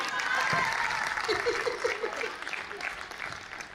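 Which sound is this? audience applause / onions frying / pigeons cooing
audience applause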